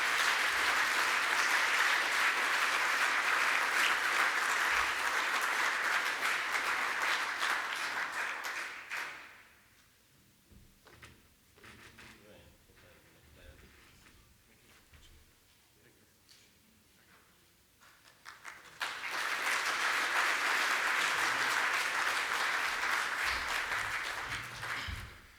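Audience applause for a newly named president at an annual meeting's general session, a long loud wash of clapping that fades into a quieter stretch and then swells again.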